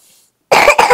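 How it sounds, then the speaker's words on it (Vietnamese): A person coughs while cooking, two sharp, loud coughs in quick succession close by after a moment of near silence. "Nấu ăn mà ho lung tung vậy rồi."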